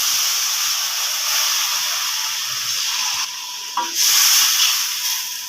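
Water poured into a hot pan of frying raw mango pieces sets off a loud, steady hiss of steam and sizzle that swells briefly near the end, close and without voices.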